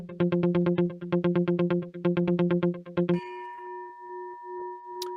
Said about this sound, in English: it's the breaking news gong